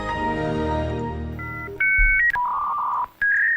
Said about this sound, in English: The dial-up modem game as we fire up Windows XP